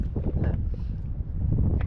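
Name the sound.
strong wind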